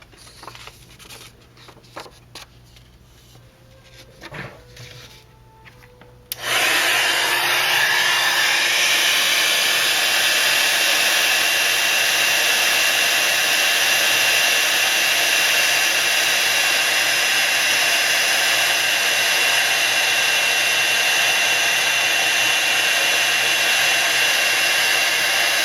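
An embossing heat tool melts gold embossing powder on a Color Me card topper, switching on after about six seconds of quiet and then blowing as a loud, steady whoosh that holds to the end, with no talking.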